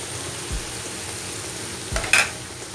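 Fried rice vermicelli with egg is stirred in a pan: faint background sizzle broken by a few short scraping strokes, the last one the loudest.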